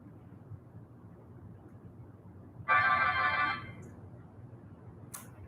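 A mobile phone ringtone sounds during a quiet yin yoga class, about a second of bright electronic tones over a low room hum, then a brief short chirp afterward.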